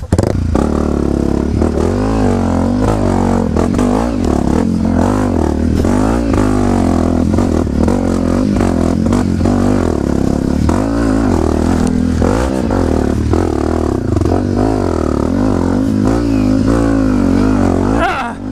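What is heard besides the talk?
Yamaha WR155R motorcycle revving on a trail ride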